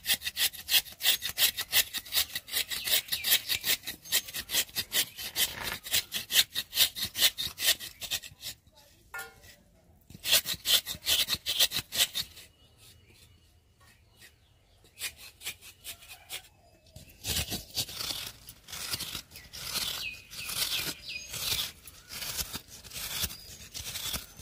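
Coconut grated by hand in a home kitchen: rapid rhythmic rasping strokes in bursts, close and crisp, pausing briefly midway before resuming steadily.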